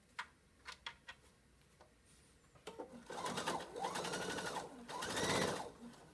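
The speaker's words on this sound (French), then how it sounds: "je vais refaire ma surpiqûre sur le haut" A sewing machine topstitches along the top edge of a fabric mask. A few isolated ticks come first, then steady whirring runs of stitching. The machine sounds close and nobody talks.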